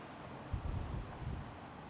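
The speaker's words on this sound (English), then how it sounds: "And it is pretty windy today." Gusty wind blows across the microphone of a Reolink RLC-811A outdoor security camera on a windy day, a steady broadband rumble that swells briefly in the middle, with no talking.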